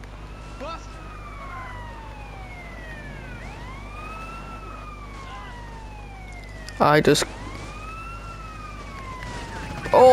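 Police sirens wail in GTA San Andreas, the rising and falling tones sweeping repeatedly at mid distance over game ambience, with a brief loud burst partway through and a voice briefly speaking.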